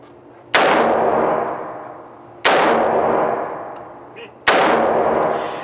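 Three loud, sharp M4 assault rifle shots at an indoor range, each a hard crack followed by a long ringing echo that fades before the next, spaced about two seconds apart.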